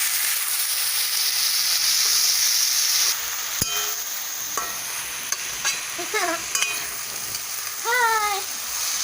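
Chopped tomatoes and spices frying in oil for soya kofta curry, a loud steady sizzle with scattered stirring knocks, later joined by short rising squeals like a cat's mew.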